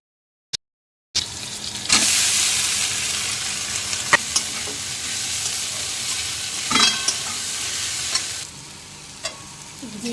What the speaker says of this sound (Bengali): অর্ধেক চিংড়িটা এদিকে ভেজে নিচ্ছি